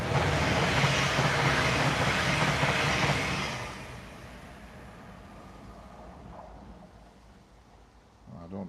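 A freight train passes at Crewe Basford Hall, with a loud rumbling roar of wagons that fades after a few seconds into a quieter distant hum before a brief rise again.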